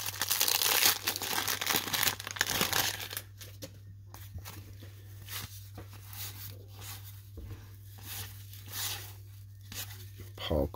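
A 1990 Topps cello pack of baseball cards being torn open, loud crinkling and ripping of the wrapper up close at first, then softer intermittent rustling with faint speech underneath.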